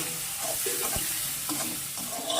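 A spice paste with tomato is stir-fried in a pan, a steady close sizzle broken by the scrape and clack of a spatula stirring, without talk.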